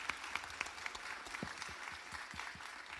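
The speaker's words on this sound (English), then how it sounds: "Let's give a round of applause again to our great Attorney General and to Dr. Vásquez as well." An audience claps for speakers at a summit gathering, a steady round of applause with a few sharper nearby claps standing out and faint crowd murmur beneath.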